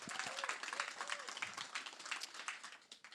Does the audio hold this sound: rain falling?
no